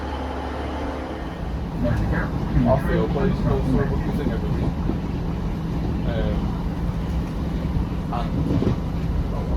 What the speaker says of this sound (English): here's my train, so I better get on